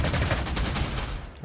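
Gunfire from an attacking Messerschmitt fighter plane in the World War II strategy game Panzer Corps 2, a fast, loud automatic burst of rattling shots that tapers off near the end.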